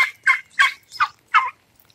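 Farm turkeys gobble in five quick, close, loud bursts, each a rattling call separated by brief pauses, with no talking.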